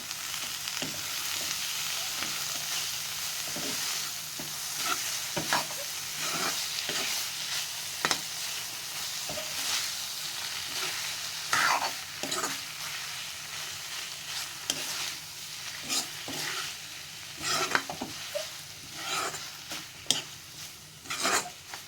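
Paneer and chopped coriander are stirred in a pan, with a spatula scraping and tapping in irregular strokes over a soft, steady sizzle, close and without talking.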